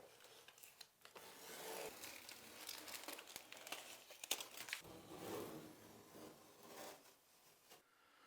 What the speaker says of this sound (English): we're going to pull the tape off and then we're done.